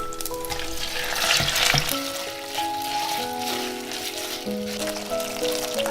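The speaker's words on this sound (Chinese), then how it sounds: "先加入蒜片炒香，再把排骨加进来" Pork ribs and garlic slices stir-frying in oil in a clay pot, a loud dense sizzle with scraping and stirring that surges early then settles to a steady crackle, with a faint tonal hum running underneath.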